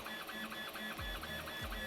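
A Two Trees SK1 3D printer running fast while printing TPU filament, giving a steady high stepper-motor whine with rhythmic, chirping pitch sweeps and low thumps as the head changes direction, heard alone at close range.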